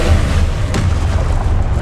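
A Confringo explosive spell blast in the Hogwarts Legacy video game: a loud, deep booming rumble throughout, with one sharper crack partway through.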